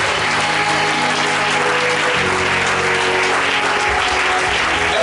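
A church congregation bursts into loud, sustained applause, a dense wash of clapping from many hands that fills the room and keeps going strongly to the end.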